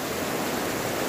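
A steady, dense rush of a clear river near Mount Kinabalu fills the whole moment, close and even, with no voices.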